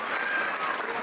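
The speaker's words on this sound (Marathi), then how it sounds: "त्यांच्यासाठी जरा सर्वांनी एकदा टाळ्या वाजवाय" Audience clapping at a school annual day function, a brief, even wash of many hands applauding together, moderately loud and steady with no break.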